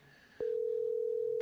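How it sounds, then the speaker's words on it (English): A steady, loud telephone tone starts abruptly partway through and holds unbroken while a call is placed, after a short, quiet lead-in. "I'm ringing up a phone."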